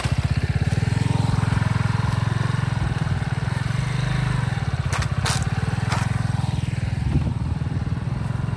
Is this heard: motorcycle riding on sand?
yes